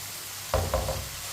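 Tomatoes cooking in a pan for sarson ka saag, with a quiet background and then a couple of short stirring and sizzling bursts in the second half.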